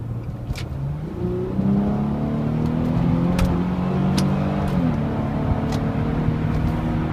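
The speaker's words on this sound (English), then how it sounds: "So this is a 5-speed automatic transmission with rev match downshifts." Infiniti G car with a 5-speed automatic transmission driving on an open road, the engine droning loudly from inside the cabin as its pitch climbs and then briefly blips during a rev-matched downshift.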